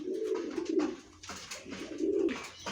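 Racing pigeons coo in low, rolling bursts close by in their loft, several birds overlapping in a repeating rhythm.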